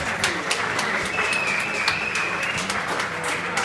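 Sustained audience applause at a live jazz concert, a dense continuous wash of many hands clapping for the full length, fairly close and loud, with a faint high tone running through the middle.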